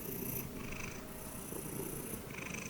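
A house cat named Cookie purrs close to the microphone, a soft continuous rumbling with gentle rhythmic breaths, quiet and steady with no talking.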